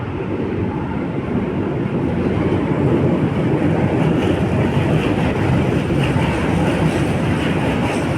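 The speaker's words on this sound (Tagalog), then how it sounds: "Parating ng LRT mga bayan." An LRT light rail train approaches along the Manila city line near Lawton and the Esplanade, heard as a broad, steady rumble that swells gradually, with outdoor wind noise over it.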